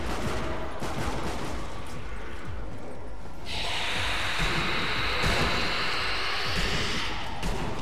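Pistol and other gunfire in the Sniper Elite V2 Nazi Zombie Army co-op game, scattered shots blending into a steady noisy wash of combat, moderately quiet with a hissing texture building midway.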